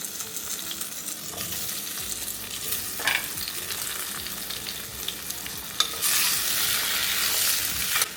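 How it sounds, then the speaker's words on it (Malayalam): Potatoes shallow frying in oil in a pan for an egg and potato gravy, a steady close sizzle with bursts of louder crackling near the end and brief stirring scrapes, with no one speaking. "ഒന്ന് കുറച്ചൊന്ന് ഫ്രൈ ചെയ്യട്ടെ."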